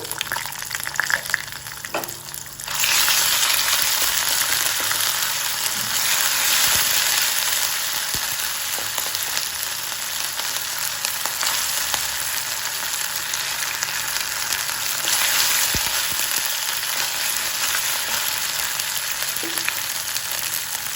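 Ginger garlic paste with bitter gourd and dried red chillies frying in a pan, a loud, continuous broadband sizzle that swells after a quieter opening with a few clicks, no talking.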